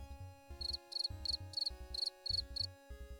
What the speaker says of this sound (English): I'm just gonna click the crickets on the soundboard.